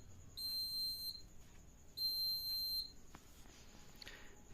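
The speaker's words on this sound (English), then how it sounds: "this LED light will glow and buzzer buzz" Two sharp, high-pitched electronic buzzer beeps from a laser security alarm module, each about a second long, with a short gap between them over quiet background.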